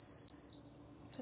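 An Instant Pot beeps to signal that eggs have finished cooking, giving a faint steady high electronic tone that breaks off and starts again over quiet room noise.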